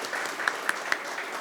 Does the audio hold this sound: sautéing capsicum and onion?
no